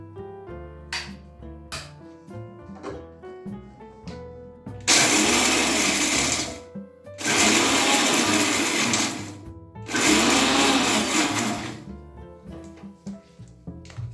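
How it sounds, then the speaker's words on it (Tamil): A mixer grinder whirs through three loud bursts of grinding dry-roasted wheat flour, each a few seconds long with short pauses between, after some light kitchen clatter. "நான் இப்போ அரைச்சிக்கிறேன்"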